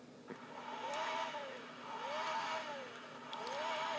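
The Ariel car's engine in Need for Speed Most Wanted on PS Vita, a quiet, repeated rising and falling tone that swells in regular waves about once a second, like revving passes.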